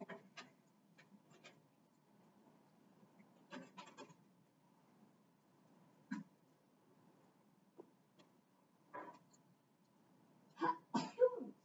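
A single sneeze bursts out near the end of a quiet math lesson, preceded by scattered faint coughs and small clicks in an otherwise hushed room.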